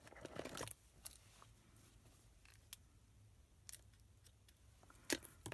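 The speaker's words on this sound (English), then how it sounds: "I'm just going to take these straggly end bits now and snip them off" Scissors snip off straggly paper end bits on an Easter egg box paper craft, a handful of quick, sharp cuts spaced apart in a quiet room with no talking.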